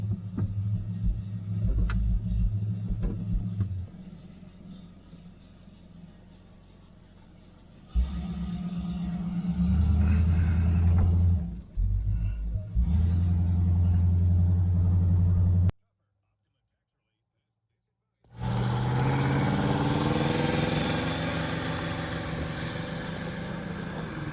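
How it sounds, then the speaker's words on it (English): A 1970 Oldsmobile Cutlass convertible with a Rocket 350 V8 driving, a loud low engine rumble that drops, surges again and cuts briefly before returning as the car pulls away, with talk in places. "Here we go, taking the Cutlass home."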